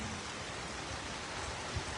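Rain falling at a bus stand in Losal during a storm, a soft, steady hiss of drops on surfaces, faint and continuous with no voices.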